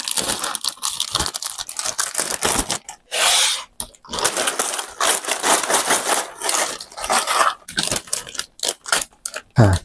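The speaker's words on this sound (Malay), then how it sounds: "Okey, kita koyaklah plastik buka ni." Close, crinkly plastic packaging being torn and rustled in repeated bursts, with brief pauses between the ripping sounds.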